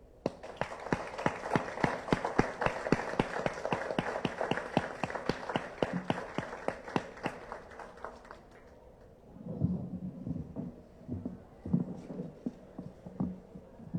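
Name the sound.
applause for Manuel at a book presentation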